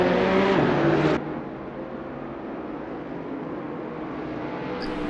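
GT3 race cars at Spa in Assetto Corsa, a loud engine roar that drops abruptly as a car passes, then a steady lower drone of engines continuing on track.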